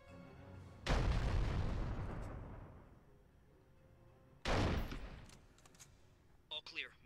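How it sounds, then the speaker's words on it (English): Heavy gunfire in the video game 24: The Game comes in two loud, dense broadband bursts, the first about three seconds long and the second briefer, each trailing off into rumble. A few short sharp shots follow near the end. "Agent Bauer, we're under heavy fire."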